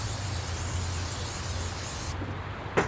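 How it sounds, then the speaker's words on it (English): A continuous hissing spray from an aerosol can of tacky adhesive sprayed onto a pumpkin, close and steady for a couple of seconds, then stopping, followed by a faint tap. "You're going to take your tacky spray and you're going to spray right on top of the pumpkin"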